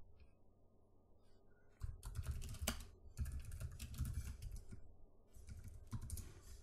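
Typing on a computer keyboard at a Linux command line on Windows 10, a quiet pause followed by bursts of rapid close key clicks and clatter, in several short runs with brief gaps.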